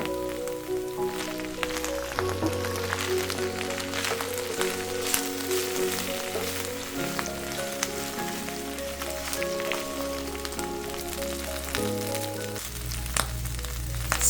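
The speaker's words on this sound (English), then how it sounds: "Add 4 tablespoons of oil in a large pan. Add the sliced okra." Sliced okra frying in oil in a large pan gives a steady, soft sizzle with no talk, sitting under a continuous musical backing.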